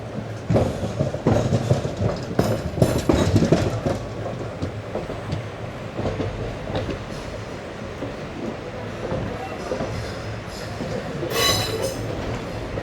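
A train pulling onto the line toward Shoranur, with wheels clattering and squealing on the rails and a steady rumble of the carriages, close and loud, with sharp metallic squeals near the start and end and no talk.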